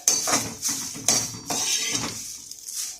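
Curry leaves crackle and rattle while dry roasting in a hot pan, with repeated scraping and clinking bursts from stirring, close and fairly loud.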